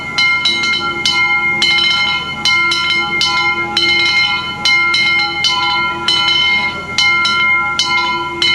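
Steam locomotive No. 9's bell rings loudly and steadily, repeated metallic clangs at a regular rhythm over a constant hiss, close by.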